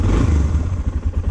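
A Suzuki DR650 motorcycle engine catches and runs with a rough, loud idle close by, its low rumble steady across a short stretch with no voices.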